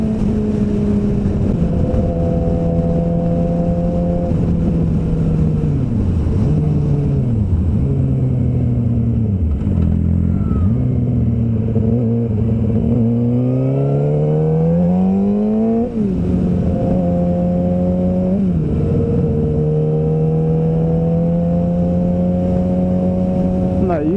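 A Suzuki GSXR 600 track bike's engine drones loudly and continuously up close, pitch dipping and climbing repeatedly as the throttle opens and closes through shifts on a track ride.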